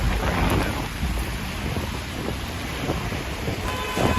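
Heavy rain pours down steadily on a Manhattan city street in New York, a dense, close hiss of drops striking hard surfaces, with no voices.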